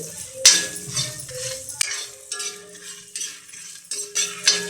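Dried chillies and black peppercorns dry roasting in a pan for dal rice powder, with a utensil repeatedly scraping and stirring in bursts, close and fairly loud, with faint crackling between strokes.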